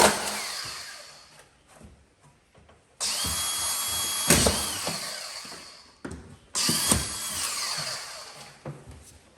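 A power drill drives drywall screws into plasterboard on an arch frame, two sharp whining bursts of a few seconds each, close and loud, separated by quieter handling clatter.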